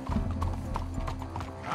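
Horse hooves clip-clop steadily in Red Dead Redemption 2, a close, continuous walking rhythm over a low game-world ambience, with no talk.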